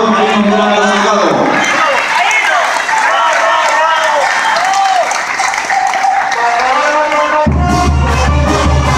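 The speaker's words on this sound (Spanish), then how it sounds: "fuerte ese aplauso para el profesor Mariano Morales Salgado" An audience at a political report event gives loud, sustained applause for a professor and legislator, dense clapping and crowd noise throughout, with voices and music mixed in and a sharp shift in sound near the end.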